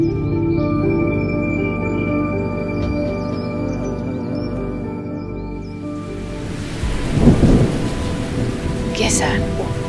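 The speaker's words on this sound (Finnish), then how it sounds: "Kesän ukkosmyrskyt ovat jännittäviä. Salamat välähtelevät ja pilvissä jytisee." A summer thunderstorm rolls in: a low, drawn-out thunder rumble swells midway over a steady hiss of rain, with a tonal background hum in the first half and no speech.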